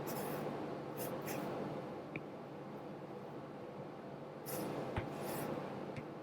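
Chalk or marker scratches and rubs across a board during an inorganic chemistry lecture, in a few separate strokes with small taps, fairly close against a steady room hiss.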